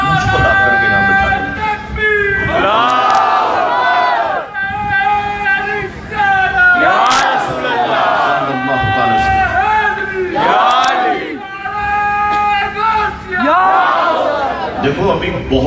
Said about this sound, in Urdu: اب اس طرح سے نعرے لگاؤ گے